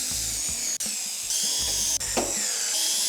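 A power drill drives screws into the sheet-metal top of an AC condenser, whining loudly and steadily with brief stops and restarts between screws.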